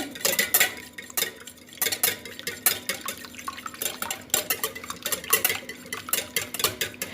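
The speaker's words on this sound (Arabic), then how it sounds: "هاد البيضات، 2 بيضات كما سبق لي وذكرت في المقادير. غنحركهم مزيان" Two eggs stirred briskly in a bowl with a utensil, a rapid rhythmic clinking and scraping that repeats steadily and close up, with no talking.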